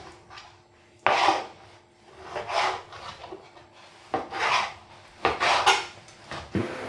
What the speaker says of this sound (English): I'll just chop the steak into chunks, like bite-sized.